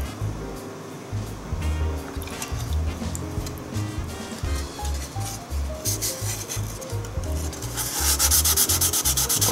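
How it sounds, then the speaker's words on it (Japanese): Close, rhythmic scrubbing of 800-grit sandpaper over the body of a 1/24 scale Aoshima Liberty Walk R35 GT-R model car, with repeated short rasping strokes that grow louder and brighter near the end. "800番のペーパーで磨いていこうと思います"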